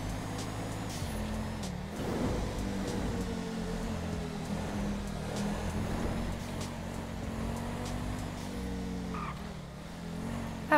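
Steady engine drone of a car driving in the video game GTA during roleplay, a continuous low hum with subtle pitch shifts as it accelerates and eases off, fairly constant in loudness.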